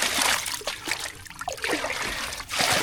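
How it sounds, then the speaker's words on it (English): Water pours into a gold-prospecting rocker box as it is filled, giving a steady, close trickling and splashing stream that briefly eases and then resumes, with no talk over it. "I'll fill this up with water just to give it a bit more stability."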